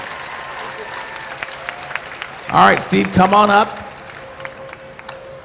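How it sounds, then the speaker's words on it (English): An audience bursts into a short round of applause and cheers at a belly flop contest, loud clapping rising briefly while an announcer talks over it. "Let's give Steve a big round of applause as he climbs out."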